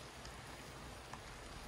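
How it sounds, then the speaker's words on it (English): Rain falls steadily near a climbing spot at White Gill, a soft, even patter of drops on surfaces with a few louder individual drips standing out. "Of course, it's just started raining."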